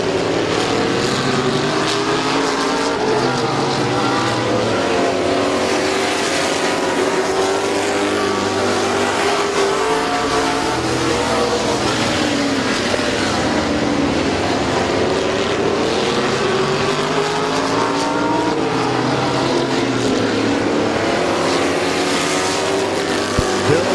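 Stock cars at Midvale Speedway roaring around an oval, a continuous loud wall of engine noise with revving and Doppler-like swells as cars pass close, no talk.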